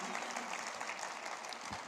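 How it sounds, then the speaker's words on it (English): Crowd applause for an angler at a bass fishing championship weigh-in, a quiet, steady clapping that fills the whole stretch with no break. "Give a round of applause to Joe Uribe"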